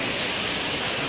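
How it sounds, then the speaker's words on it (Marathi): A monsoon waterfall pours beside the steps up Raigad Fort, a steady, loud broadband rush of falling water filling the brief moment with no voices. "बघा इथून धबधबा वाहतोय"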